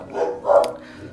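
Dogs barking indoors, two short muffled barks a moment apart at moderate loudness, with no talk over them.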